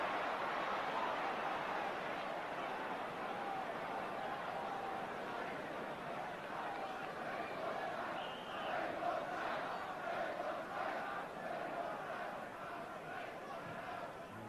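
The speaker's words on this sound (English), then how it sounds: "Spurs crowd beginning to shout, "We want Taylor."" Tottenham Hotspur supporters chant together at an FA Cup replay against Swindon Town, a dense, steady crowd roar filling the stadium throughout with rhythmic shouted chanting rising partway through.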